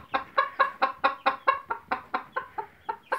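A Cochin hen clucks agitatedly on a farm, giving a steady run of about fourteen loud, close, evenly spaced scolding clucks with no other sound.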